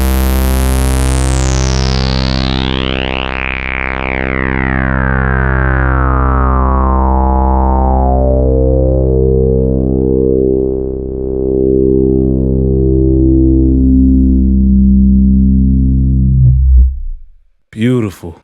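A Softube Model 82 sequencing mono synth holds a single sustained note built from sub oscillator, sawtooth and a touch of noise; its bright buzz steadily darkens as the filter closes, loud and alone, before cutting off abruptly near the end.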